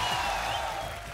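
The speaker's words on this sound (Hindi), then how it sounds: "आपकी जोरदार तालियों के बीच स्वागत" Enthusiastic studio audience applause on The Kapil Sharma Show welcoming actor Irrfan Khan, a dense continuous sheet of clapping with a faint tonal backing beneath it.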